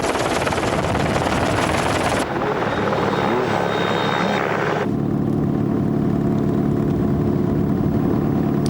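Helicopter passing over the desert dunes of the 1993 Paris-Dakar rally, a loud steady rotor and engine roar that shifts in tone partway through and continues without speech.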